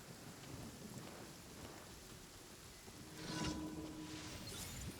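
Steady rain patters while a soft, distant rumble of thunder rolls in the Genshin Impact game world, swelling louder toward the end.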